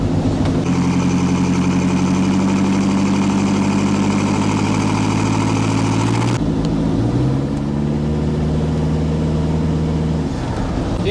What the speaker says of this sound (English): And you can hear like the turbo chatter every time you let off.